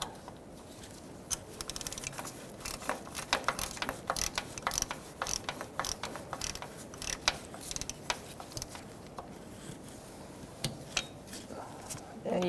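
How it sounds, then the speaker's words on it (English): Ratchet tightening a starter bolt on a 2000-2007 Ford Taurus 3.0L V6, steady close metallic clicking in quick repeated strokes, fairly faint, with no talking. "Make sure the threads are started by hand so you don't cross thread anything. All right, so you can snug up this bolt."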